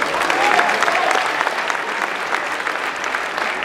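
An audience claps steadily at a junior bodybuilding pre-judging contest, the 2015 Saxon Classic, after the competitors' final most-muscular pose. The dense, even applause continues for several seconds at a strong level.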